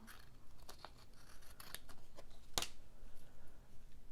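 Scissors snip off a strip of thin paper napkin overhanging the edge of a Halloween decoupage project, giving a few quiet close cuts and one sharp louder snip near the middle.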